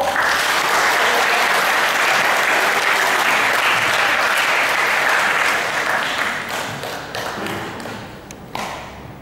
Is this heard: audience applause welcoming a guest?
yes